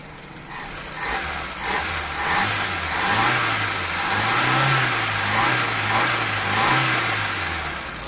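Car engine during carburetor tuning, running at a steady idle and then rising in repeated smooth revs that swell and fall back, loud and close with a persistent high whine.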